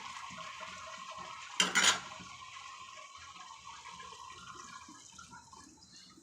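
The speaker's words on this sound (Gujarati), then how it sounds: "હવે આપણે એમાં જરૂરિયાત મુજબ પાણી નાખીશું" A brief, splashy gush of water poured into a pot of curry rises over a steady low hiss, then fades back to quiet simmering.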